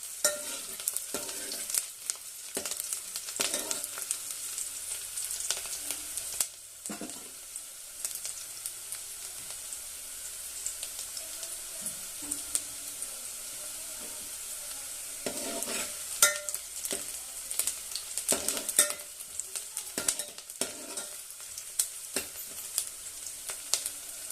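Chopped onion stirred and roasted in a pan for a Maharashtrian pavta bean amti, giving a steady low sizzle with repeated scraping stir strokes across the pan, close and continuous with no talking.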